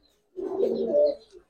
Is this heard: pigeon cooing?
yes